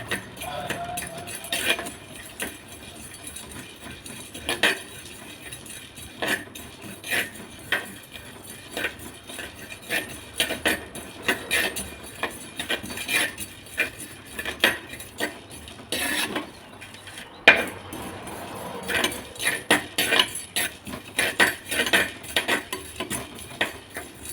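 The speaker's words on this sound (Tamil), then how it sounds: "சீரகம், மிளகு இதை மட்டும் வறுத்துக்கலாம்" Cumin and black pepper dry-roasting in a pan, stirred with a spoon in irregular light scrapes and clinks against the metal, fairly quiet with no talking over a long stretch.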